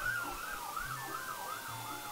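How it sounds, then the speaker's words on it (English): An ambulance siren wails steadily as it passes by a house, rising and falling in a smooth repeating sweep, heard from indoors at moderate distance, with no talk over it. "an ambulance just passed by my house right now"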